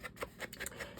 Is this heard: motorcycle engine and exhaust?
no